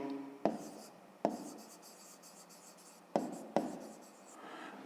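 Pen or pencil writing on paper during a 5th-grade maths exercise, a soft continuous scratching with four sharp taps or strokes spaced through it, close and fairly quiet, no voices.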